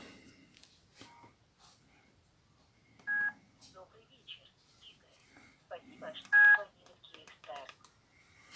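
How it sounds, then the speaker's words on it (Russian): A mobile phone dials a call on a small, not very loud speaker, giving two short bright tones among soft key clicks and handling noise. "Первый звонок на Украине."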